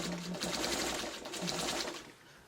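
Sewing machine stitching through thick fabric for a pet bed, a fast, steady mechanical whir with rapid needle chatter, close up, slowing near the end.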